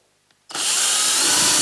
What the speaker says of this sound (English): Drill our second hole.